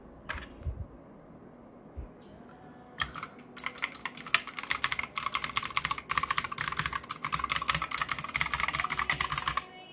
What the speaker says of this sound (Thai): Mechanical Keyboard ครับเป็นปุ่มบูสวิตสามารถกดพร้อมกันได้ประมาณ11ปุ่มขึ้นไปนะครับ